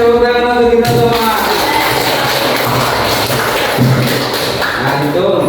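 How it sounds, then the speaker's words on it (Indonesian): A classroom group of learners claps together, a loud dense burst of hand claps with some thumps, filling the moment before talk resumes. "Oke, tepuk tangan untuk kita semua."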